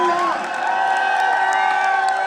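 At a speech event, a large crowd claps, cheers and whoops loudly, a dense, steady noise with some high shouts rising above it.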